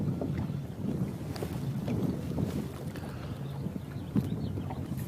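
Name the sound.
wind blowing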